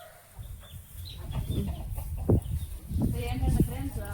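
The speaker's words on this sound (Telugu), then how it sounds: "మన కోళ్ళు వచ్చేసి చెట్ల కిందనే ఉన్నాయి, పాల చెట్ల కింద" Chickens cluck and call under trees in a farmyard, nearby and irregular, with soft background voices.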